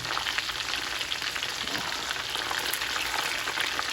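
Korean sweet and spicy fried chicken pieces bubble and crackle in hot oil, a continuous dense sizzle heard close and fairly loud without pauses.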